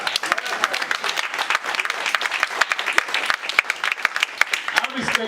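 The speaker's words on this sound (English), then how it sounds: "And let's give Kobe King a round of applause." An audience at a mayoral debate applauds, a dense run of clapping with sharp individual claps standing out and voices talking over it throughout.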